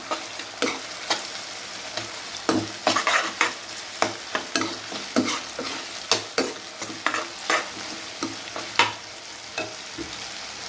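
Vegetables for pav bhaji sauté in a pan, a sizzle punctuated by frequent, uneven scraping and knocking strokes of a spatula, close and fairly loud.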